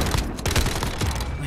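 Rapid bursts of gunfire in the video game Modern Warfare crack loud and close, several shots in quick uneven succession over about a second and a half.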